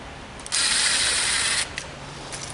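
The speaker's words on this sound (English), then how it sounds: "So, you just need 3 screws into this to do it." A screw is driven into a wooden bluebird house, with one loud, gritty, buzzing burst of about a second followed by a few faint brief clicks.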